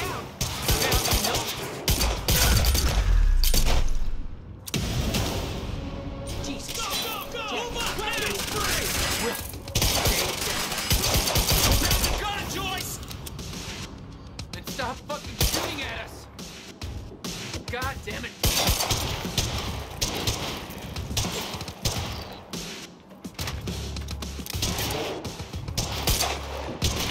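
Sustained gunfire in a shootout from the video game Quantum Break: rapid automatic bursts and single shots overlap throughout, loud and close, with heavy thuds and voices shouting over the barrage.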